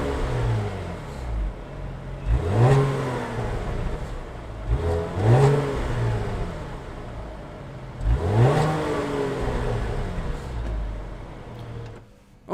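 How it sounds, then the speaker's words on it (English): A 2016 Cadillac CT6 engine idles steadily, then is revved three times in quick succession, each rise and fall sweeping up and back down, close and loud with no talking. "let's hear this engine for a second here"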